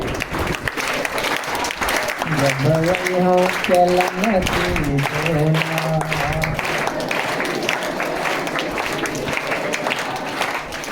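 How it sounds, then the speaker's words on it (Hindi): An audience claps steadily and fairly loudly in a teaching session with children, the applause running under a man singing a devotional song throughout. "ताली बजाओ।"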